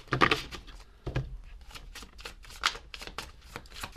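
Tarot cards being shuffled and pulled for a reading, a series of crisp riffling flutters and soft slaps at close range, irregular bursts with brief pauses between them.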